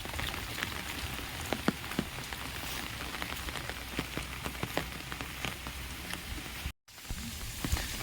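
Heavy monsoon rain falls steadily on a village with a full pond and muddy roads, a dense close hiss with scattered sharp drips throughout, briefly cutting out near the end.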